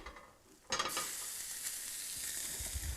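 Diced beef dropped into a hot pan with paprika for a Hungarian goulash, starting with a sudden loud hiss that settles into a steady close sizzle while it is stirred, with faint scraping near the end.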